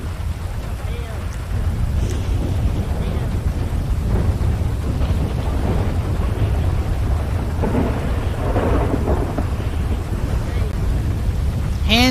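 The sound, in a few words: thunderstorm with rain in video game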